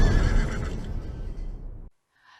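A horse at a horse beauty contest gives a loud, close whinny that runs for nearly two seconds and then stops abruptly, followed by a brief faint sound.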